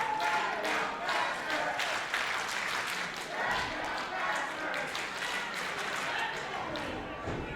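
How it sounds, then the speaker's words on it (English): Wrestling crowd at a Barrie Wrestling event cheering and clapping after a Spanish fly, a steady dense roar of applause and shouts running throughout with no pause. "The crowd very much into this match."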